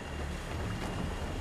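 A sailing ship under way at sea in the Assassin's Creed IV Black Flag video game gives a steady, loud rush of wind and surging water, with no gaps or distinct events.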